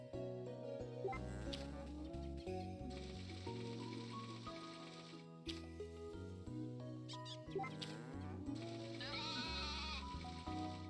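Sheep bleat on the farm in STORY OF SEASONS: A Wonderful Life, a few short, wavering cries that sit over the game's steady background music at low volume.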